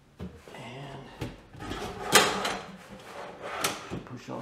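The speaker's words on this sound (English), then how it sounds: "It comes out, and the soft close will just take it and carry it in." A soft-close kitchen island drawer slides shut on its drawer slides, a short rolling glide and soft thud close by, with quiet talking around it.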